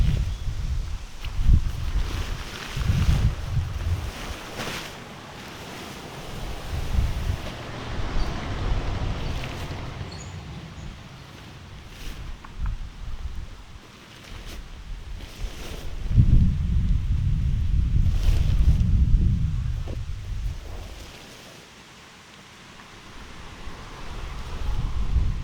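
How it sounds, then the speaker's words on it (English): Breezy wind at an outdoor campsite, gusting in waves with rumbling buffets against the microphone and rustling in between, loud swells alternating with calmer stretches and no voices. "It is a little breezy and windy today"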